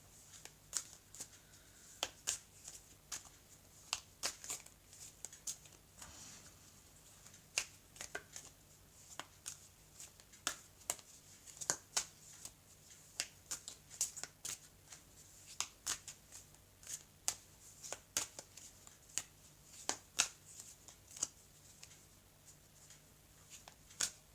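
Blue oracle cards shuffled by hand close up, a long run of soft, crisp riffling snaps and flicks repeating at an uneven pace over a faint, quiet room.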